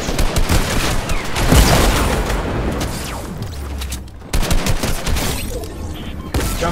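Drum gun from Fortnite firing, in loud rapid bursts of automatic gunfire with echoing booms and clattering impacts, broken by a short pause before firing resumes.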